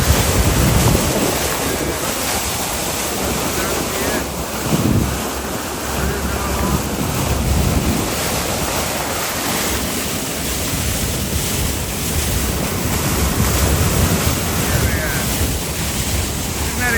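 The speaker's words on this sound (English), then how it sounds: "watching the wash of the boat come out from the bow" Loud, continuous rushing of water churned along a moving boat's hull, mixed with heavy wind buffeting the microphone.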